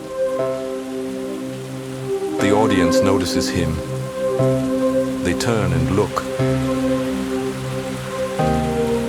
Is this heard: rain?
yes